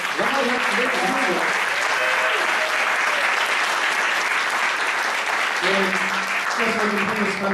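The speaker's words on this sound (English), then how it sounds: "How about a round of applause for our child care?" An audience claps loudly and steadily for child care volunteers at an event, the applause sustained throughout while voices speak over it at the start and end.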